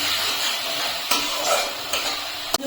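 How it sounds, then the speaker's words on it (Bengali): A Bengali spice paste of cumin, coriander and Kashmiri chilli powder sizzles in a pan while being stirred, a soft steady fry with a few sharp clicks of the spoon against the pan. "এখন মশলাটাকে ভালো করে কষিয়ে নিচ্ছি।"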